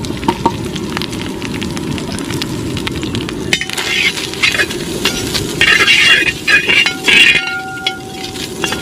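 Grated coconut roasting in a pan for a taro and beef trotter dish, giving a steady soft sizzle and crackle with occasional clinks of a utensil against the pan, growing a little brighter partway through.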